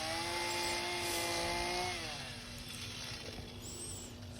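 A chainsaw carves the outline of gnome shoes into wood, its loud nearby engine whine holding high and then dropping to a lower, rougher pitch partway through.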